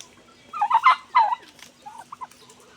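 Turkeys gobbling on a farm in Pondicherry, a few bursts of rapid gurgling calls close by, followed by softer, shorter clucks, with no talk.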